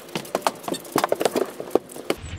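A mare's hooves step back into a horse trailer, a series of uneven clip-clopping thuds on the trailer floor, close and distinct, with no talking.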